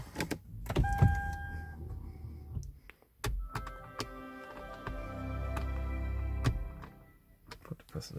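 The sunroof motor of a Toyota Crown Hybrid gives a steady electric whir lasting several seconds, preceded by a couple of clicks and soft cabin handling noises.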